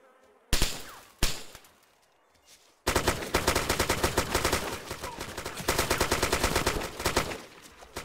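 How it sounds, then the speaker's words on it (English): In-game gunfire from DayZ Epoch: two sharp single shots ring out, then a long, dense burst of rapid automatic fire rattles continuously for several seconds, loud and close. "That was me shooting."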